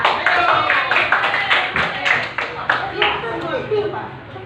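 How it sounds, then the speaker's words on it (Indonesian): A classroom group claps for the first presenting team of students, a scattered patter of hands over several seconds with talk mixed in. "kelompok 1 dulu tepuk tangan"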